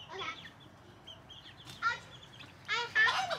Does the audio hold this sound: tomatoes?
no